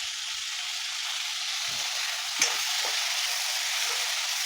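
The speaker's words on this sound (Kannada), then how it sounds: "ಈಗ ಟೊಮೆಟೊ ಹಾಕ್ಕೊಂಡು ಫ್ರೈ ಮಾಡ್ಕೋಬೇಕು." Tomatoes frying in a pan for capsicum paneer masala, a steady close sizzle and hiss with a few soft stirring scrapes partway through, no voice over it.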